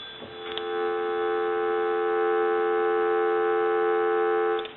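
Continuous telephone dial tone from a repaired Country Line wood wall telephone, steady and unbroken, heard alone close up after a faint brief click at the start.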